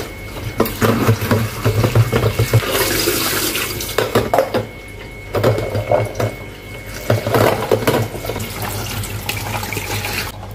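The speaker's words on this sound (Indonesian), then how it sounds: "kalau cuci sayuran itu harus dengan air mengalir supaya kotorannya terbuang dan gak endap di situ aja" Green beans are rinsed under a running kitchen tap, with water splashing and gurgling steadily for several seconds and the flow surging and dipping as the beans are moved by hand.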